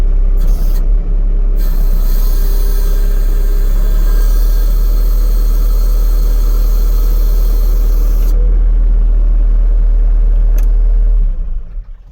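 A skid steer loader's engine running loud and close, a heavy continuous rumble with a steady low hum that holds for most of the time before dropping away at the end.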